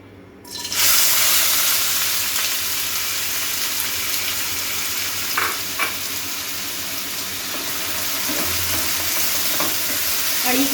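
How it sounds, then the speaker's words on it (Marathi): Onion hits hot oil in a pan for chicken kheema pattice, bursting into a loud, close, continuous sizzle after a moment of silence, with occasional stirring clinks underneath. "आता इथे आपलं तेल गरम झालेलं आहे तर त्यामध्ये आपण सर्वप्रथम कांदा घालूया"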